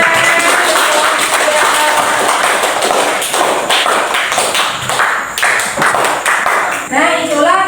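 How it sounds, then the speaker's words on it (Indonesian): A classroom of fifth-grade pupils clapping after group presentations, dense, fast, overlapping hand claps filling the room at steady loudness, with faint voices mixed underneath. "Ya, tepuk tangan."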